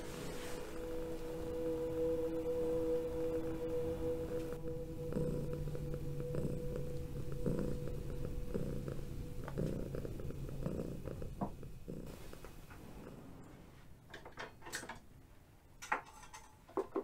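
A cat purrs steadily and softly up close in a quiet home by a warm fire, a low continuous rumble with faint ticking, fading toward the end into a few scattered small knocks.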